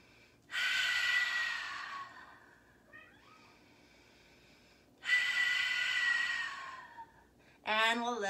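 Two long, deep breaths rush out close to the microphone during a yoga balance pose, separated by quiet pauses, and a voice starts speaking right at the end.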